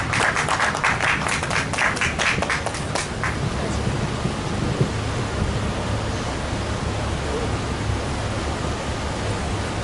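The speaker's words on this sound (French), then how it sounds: "Applaudissez." An audience at an open-mic poetry night applauds with a dense wash of clapping that is brighter at the start and settles into a steady rustle.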